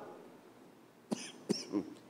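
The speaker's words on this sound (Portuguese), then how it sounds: "Tossir não é mole não, mas eu não vou parar não." A person coughs three times in quick succession, short harsh bursts spaced unevenly, close by against a quiet background.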